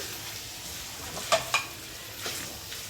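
A spoon stirs chicken gravy with spice powders in a pan, giving a few soft scraping strokes with low sizzling between them, fairly quiet and without voices.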